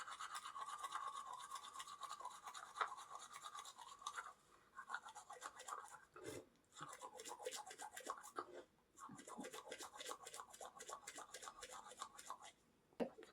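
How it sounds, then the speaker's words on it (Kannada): Teeth are brushed firmly with a toothbrush, producing a close, faint, continuous rapid scrubbing rasp with a few brief pauses between strokes. "ಚೆನ್ನಾಗಿ ಸ್ವಲ್ಪ ಬ್ರಷ್ನೆಲ್ಲ ಪ್ರೆಸ್ ಮಾಡಿ ಈ ಥರ ಮಾಡಬೇಕಾಗುತ್ತೆ."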